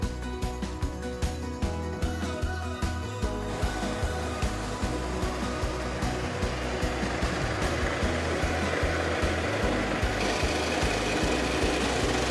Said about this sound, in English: 4 passes in total with that Greenworks battery, dethatcher